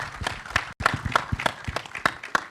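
Applause for the screenplay writer at a Bollywood film trailer launch, a crowd clapping in irregular, fairly sparse bursts with a short break partway through.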